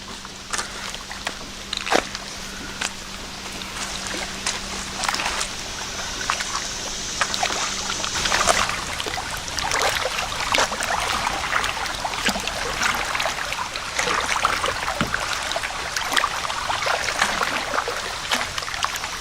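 Kayak paddling along the Susquehanna and Tidewater Canal, with steady close water sloshing, drips and trickles over a continuous wash, a low hum fading out midway and no talk.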